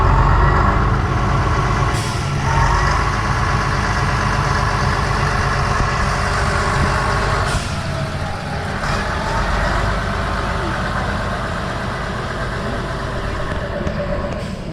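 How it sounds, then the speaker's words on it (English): Narrow-gauge railcar pulling away from a station on the Döllnitzbahn, a loud, continuous diesel engine drone with rumbling low end and brief hissing bursts as it moves off. "here we can see our railcar leaving"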